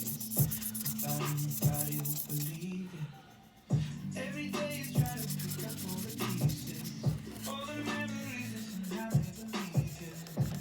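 A turned pen with a blue-black swirl finish is sanded on a spinning lathe through successive grits. A steady, close rubbing hiss runs over a humming motor, broken by a brief pause near the middle before the sanding resumes.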